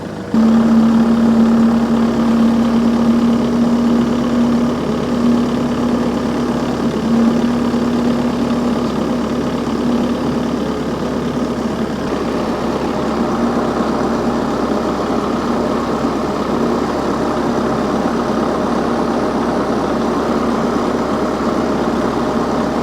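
A homemade tractor carrying a 500-pound load with water drones steadily and loudly throughout, with a low rumble and a faint whine riding on top.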